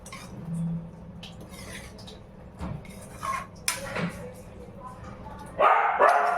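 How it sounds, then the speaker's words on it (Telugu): A pet dog barking inside a home: a few short barks and yips rise over low room noise and a person's talk, with a sharper burst of clatter near the end. "మా ఇంట్లో డాగ్ ఉన్నదనమాట. సో ఆ డాగ్ అనేది అరుస్తుంది."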